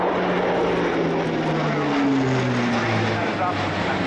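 Airbus A400M military transport turboprop flying at an air display, a steady loud propeller and engine drone with shifting tones as it passes, with crowd or commentary sound faintly underneath.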